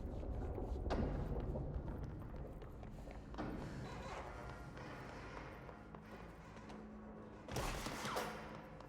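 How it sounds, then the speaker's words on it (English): Faint, distant gunfire crackles in the game Control, with a few soft thumps scattered over a low rumbling backdrop and a louder burst of shots near the end. "Who is shooting at me?"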